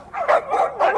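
A pack of piranha poodles barks in the pirate video game Sea of Thieves, a quick run of three sharp, close yips in about one second.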